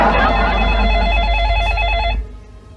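A telephone rings with a trilling electronic bell, loud and close, for about two seconds, then cuts off abruptly.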